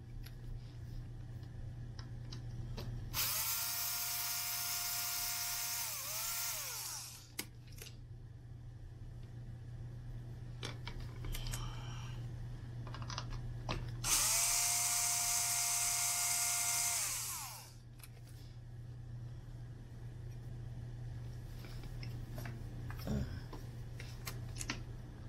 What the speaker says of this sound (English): You need to take the three screws out